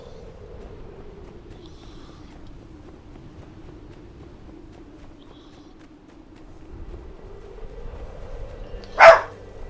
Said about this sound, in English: But the dog's outside and you're inside, and it's okay.